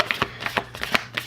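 Oracle cards being overhand shuffled by hand in quick, light, papery riffles and taps, a rapid irregular patter close by, with no talking.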